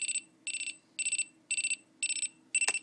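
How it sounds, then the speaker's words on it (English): A Scantronic 8136 alarm keypad sounder plays its test tone on a bench: a steady series of short, high electronic beep bursts repeating about twice a second, close and clear, with a faint click near the end. "Now it's testing the keypad sounder which is just in there."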